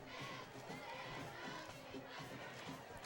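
A large crowd in the stands at a high school football game between Palo Alto and Hollister cheers and shouts continuously, distant and diffuse, with children's yells mixed into the roar.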